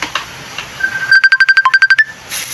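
A phone ringtone from an incoming call sounds in a home kitchen: a bright electronic melody of quick, evenly pulsed beeps, loud and close, about a dozen notes in a short burst.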